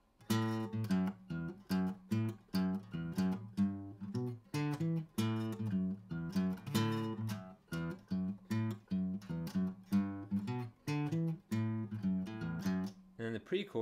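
Bass guitar plays the verse line of a song, a steady pulsing run of root, third, fifth and sixth notes, repeated evenly and alone at moderate volume.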